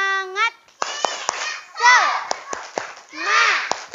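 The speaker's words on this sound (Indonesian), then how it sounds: "Sebelum cerita, kita tepuk semangat dulu yuk." Children doing a tepuk semangat clapping chant, sung voices alternating with sharp rhythmic hand claps, close and loud, in a Ramadan kids' pesantren class.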